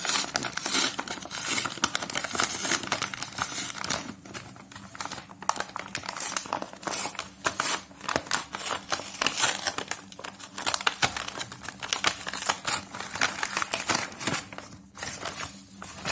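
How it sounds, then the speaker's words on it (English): Packaging of a slime making kit being unwrapped, with continuous close crinkling and tearing of plastic and paper throughout. "Guys, we're opening the packaging now."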